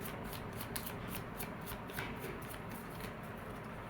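Tarot cards are shuffled by hand in quiet, rapid riffling bursts that repeat in a steady rhythm, soft and close with no talking.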